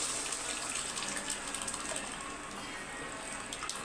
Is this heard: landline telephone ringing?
no